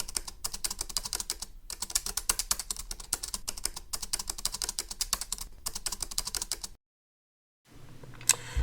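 Steady computer keyboard typing fills most of the stretch with rapid, close clicks, then stops abruptly into a short silence before a faint rustle returns near the end.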